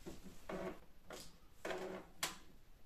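An Epson printer powering on during setup, giving four short mechanical bursts of whirring and clicking at an even, unhurried pace, heard close up and quiet with no talk.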